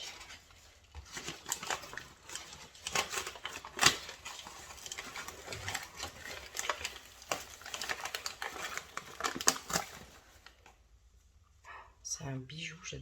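Untrimmed dog claws tapping on a wooden parquet floor, a steady series of close, crisp clicks running through most of the span before fading near the end.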